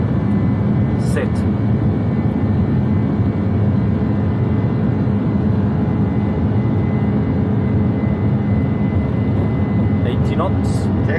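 Boeing 747 jet engines at take-off thrust on departure from Oslo, heard from the cockpit as a steady, loud, broadband roar throughout with brief cockpit callouts layered on top.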